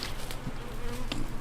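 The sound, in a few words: honey bees moving in front of a beehive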